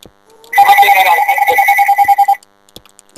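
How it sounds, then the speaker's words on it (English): A loud telephone rings close by in Minecraft in one sustained electronic trill lasting about two seconds, then stops. "It's a very loud phone."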